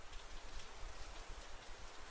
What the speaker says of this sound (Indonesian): Okay, hari ni hujan.